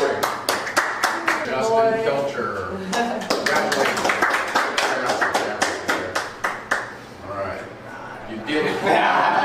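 An audience at a memorial gathering claps in scattered, uneven bursts while chuckles and cheering voices mix in, with the clapping thinning and picking back up.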